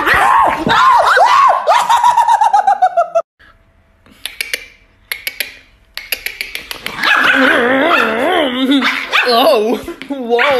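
Angry chihuahuas bark and yip in quick repeated bursts, loud and close, with a person talking over them in warm baby-talk tones at the start and end.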